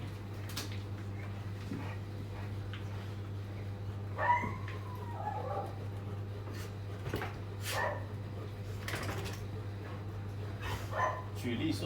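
Stray dogs at a dog kindergarten give scattered barks, yips and whimpers at moderate distance over a steady low hum, while people talk nearby.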